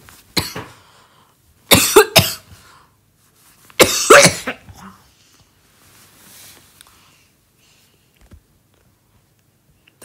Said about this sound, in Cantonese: 突然間想咳添